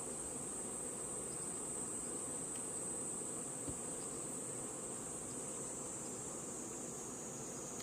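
Honeybees clustered on the wall of a hive make a steady, dense buzz that drones on evenly under a constant high insect whine, with no voices.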